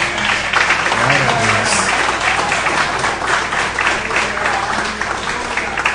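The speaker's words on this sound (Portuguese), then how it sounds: "Você pode aplaudir ao Senhor?" A church congregation at a Sunday service bursts into sustained, dense applause that fills the room, with a voice speaking over the clapping.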